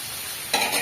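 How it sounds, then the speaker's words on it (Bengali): Tilapia frying in hot oil gives a quiet hiss that bursts into a sharper sizzle partway through, as if the pieces were stirred or turned. "মাছটা ভাজা হোক"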